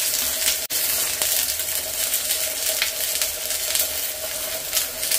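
Urad dal, chana dal, a dried chili and shallots temper in hot oil, a loud, steady crackling sizzle that holds evenly throughout with one brief sharp tick near the start.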